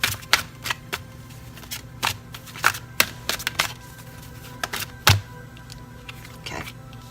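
Tarot cards being shuffled and drawn during a reading, giving quick papery riffles and slaps in irregular bursts, close and clear, with no talking.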